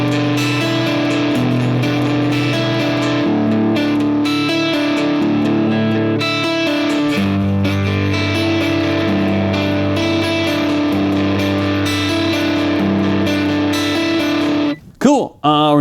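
Distorted electric guitar plays a verse riff, a steady repeating figure of picked notes that sits loud and close throughout, with a short burst of handling noise at the very end.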